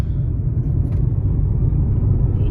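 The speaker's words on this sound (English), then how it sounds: "I'm very comfortable driving this car." A Tata Nexon EV drives along a road, heard from inside as a steady low rumble of tyres and road noise with no engine note.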